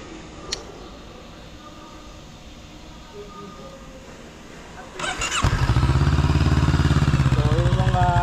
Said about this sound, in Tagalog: i-sound check naman natin tong Express 500 Racer ng FKM.